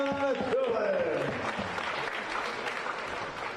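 Applause from a boxing crowd at an amateur Golden Gloves semi-final, a steady wash of clapping that holds loud then slowly eases, with an announcer's voice over the start.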